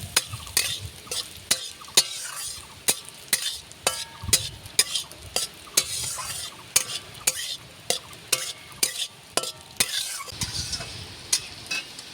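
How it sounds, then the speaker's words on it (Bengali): Red lentils and raw pumpkin frying in a hot pan, with a steady sizzle under a brisk, regular series of sharp spatula scrapes and clinks against the metal, close and continuous, no talking. "প্রথমে আমি ডাল আর কুমড়োটাকে হালকা করে ভেজে নেব।"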